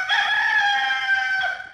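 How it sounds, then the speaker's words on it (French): A rooster crows once in a long, loud, sustained call that stays clear and close from start to finish, with no other sound around it. "Coq la chanté, soleil poco levé."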